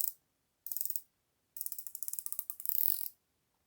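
A hand ratchet is clicked in three bursts of quick, crisp clicks, close and clean against silence, the last burst longest.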